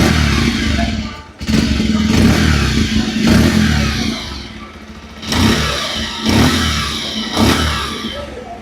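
A Bajaj Pulsar 125 motorcycle engine, metal-bodied and smooth with little vibration, idles and revs up in several loud close bursts, each rising then easing back, with a steady low hum beneath and no talk.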